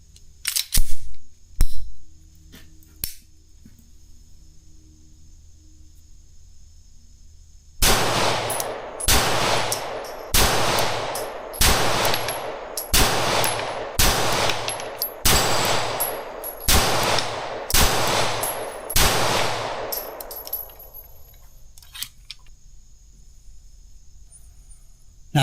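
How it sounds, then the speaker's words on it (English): Ten loud, sharp gunshots from a Kimber KDS9C pistol crack out one after another at a steady, slightly uneven pace, preceded by a few quiet handling clicks and then fading into quiet. "Okay, first shots through the KDS."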